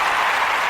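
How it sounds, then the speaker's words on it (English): A round of applause plays as a short sound effect, a steady dense patter of clapping hands lasting under a second, loud and even with no voices over it. "You know, a round of applause."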